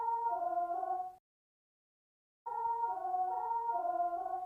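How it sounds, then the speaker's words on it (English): Synthesized choir voices sing a sustained, layered chord, break off into silence, then return with the same smooth, airy harmony. "And then the last one is the choir."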